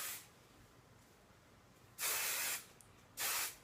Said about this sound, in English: in the back and on the sides, I just kind of lift and spray.